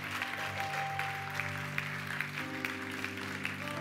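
A church congregation applauding to acclaim the Lord during a French-language sermon gives a steady, moderate clapping wash throughout, with sustained musical tones from an organ or keyboard beneath it.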